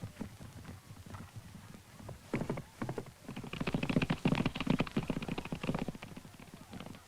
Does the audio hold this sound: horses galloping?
yes